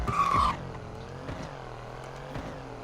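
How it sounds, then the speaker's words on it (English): A Mercedes-Benz GLS 63 launched from a standstill in third gear with traction control off, giving a loud, brief burst of tire squeal and engine roar in the first half second, then a steady lower rumble as the SUV pulls away. "this is how you launch your GLS basically. So put the car in third gear, traction control off, floor it, and go"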